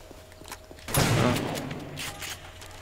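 Gunshot in the zombie survival video game 7 Days to Die: one muffled, fairly distant blast with a rumbling tail, faint against a low background.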